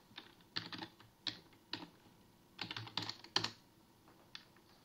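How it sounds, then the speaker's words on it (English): Close computer keyboard typing in a quiet room, a few short clusters of crisp key clicks with brief pauses between them, no voices. "So type regedit."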